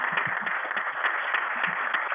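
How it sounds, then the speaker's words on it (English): Audience applause at a community meeting, a steady patter of scattered clapping held at a moderate, somewhat distant level throughout. "can we give an applause?"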